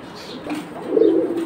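Pakistani pigeons offered for sale at a market coo close by in a short, soft, throaty burst, with a louder rolling coo near the end.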